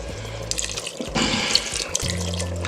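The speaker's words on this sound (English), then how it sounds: "the last thing I'm going to add is my chicken broth" Chicken broth pours from a 32-ounce container into a pressure cooker, making a continuous splashing, trickling liquid sound. The flow swells and eases over a low steady hum.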